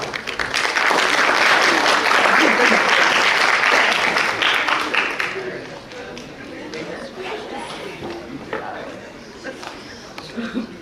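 Loud crowd applause with some cheering that gradually fades into scattered claps and quieter room noise.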